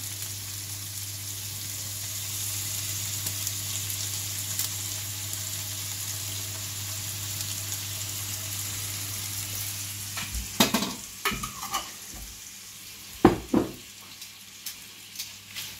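Caramelized liver with honey stirred in a frying pan, a steady close sizzle for most of the time, then sharper scraping stirs and clatters toward the end.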